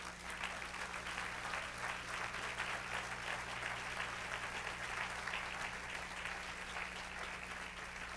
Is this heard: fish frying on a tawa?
no